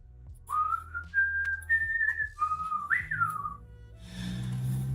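A single person whistles a short wandering melody of several sliding and held notes, close and fairly quiet, over a low background hum.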